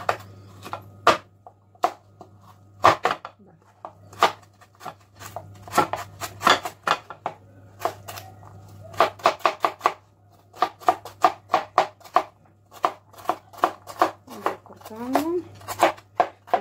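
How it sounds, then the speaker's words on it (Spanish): A knife chops three carrots on a board for a healthy broth, with sharp, irregular cuts coming in quick bursts over a steady low hum and a voice talking. "Tengo tres zanahorias, las voy a cortar primero así y luego para apoyar así"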